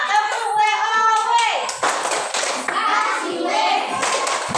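A classroom of children performs the rhythmic 'tepuk WOW' clap for a group, sharp bursts of hand claps mixed with chanted children's voices and an adult speaking, close and lively.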